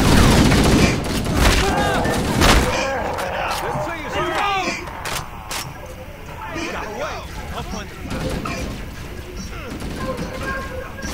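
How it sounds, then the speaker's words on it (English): Rapid bursts of gunfire and mechanical clanks from the video game Halo: Combat Evolved, dense and loud at the start and then thinning out, mixed with voices talking throughout. "I will follow you by the sound of your gunfire."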